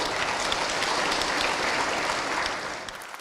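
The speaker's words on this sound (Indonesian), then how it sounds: "Tepuk tangan." Steady, dense applause from a large audience at an Indonesian national-values socialization gathering, holding even and fairly loud before tapering off near the end.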